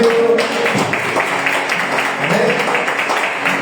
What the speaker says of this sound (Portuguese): Aplauda o Senhor pela igreja de Ivanildo.